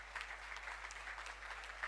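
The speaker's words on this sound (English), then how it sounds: "A big round of applause again to graduating students" A graduation ceremony crowd at Atria University applauds the graduating students, a steady wash of many hands clapping at a distance, fairly quiet throughout.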